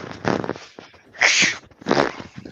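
A single sharp, breathy sneeze bursts out midway, with other short vocal noises before and after it.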